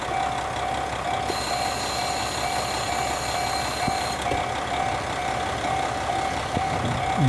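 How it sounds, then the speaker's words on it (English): A small one-car diesel train with a single operator rolls through a rural Hokkaido level crossing in Japan. A steady mechanical rumble plays throughout, with the crossing's repeating warning tone running alongside and a high whine in the middle section. "The little diesel one car,"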